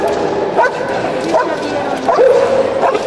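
Guard dog barking during a Mexican security-force canine handling exercise, several sharp barks repeating at roughly regular intervals over noisy background with crowd or handler voices underneath.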